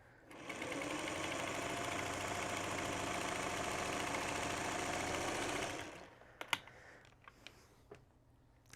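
Sewing machine running a long steady straight seam down a quilt fold, loud and continuous for several seconds, then stopping, followed by a few scattered clicks and handling sounds.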